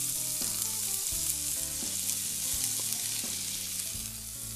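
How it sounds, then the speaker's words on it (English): Half a cup of chopped onion sizzling in a tablespoon of vegetable oil in a pan, a steady loud frying hiss with occasional stirring clinks, no talking. "I'm going to pour 1 tablespoon of vegetable oil in there. To that, I'm going to add a half a cup of chopped onion."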